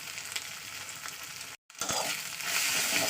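Ginger and garlic fry in oil with salt and turmeric, a close, continuous sizzle broken by a short silent cut, then returning louder with stirring scrapes.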